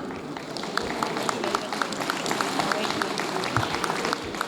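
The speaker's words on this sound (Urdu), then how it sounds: "ان کے لیے تالیاں۔" Applause from the audience at a PTI lawyers convention in Lahore, a dense sustained clatter of many hands filling the hall throughout, with crowd noise mixed in.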